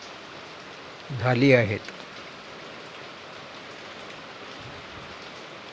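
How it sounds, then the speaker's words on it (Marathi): Steady evening rain falling outdoors in Arjun Nagar, Amravati, a continuous soft hiss of drops on surfaces heard from close by; a person speaks briefly near the start and the rain carries on alone afterward. "अर्ध्या तासापासून इथे बऱ्यापैकी पाऊस पडतो आहे"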